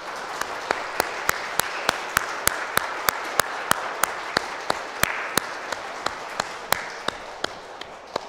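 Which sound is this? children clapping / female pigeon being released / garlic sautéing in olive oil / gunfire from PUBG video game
children clapping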